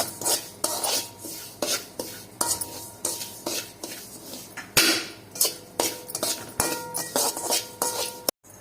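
Semolina roasting in a pan for Chettinad ukkarai sweet, a spoon scraping and tapping the metal pan in a steady repeated rhythm, close and fairly loud, with light clinks.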